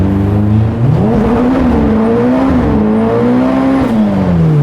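A manual-clutch sports car accelerates hard, its engine note climbing steadily through the revs, loud and close from inside the car with no talk.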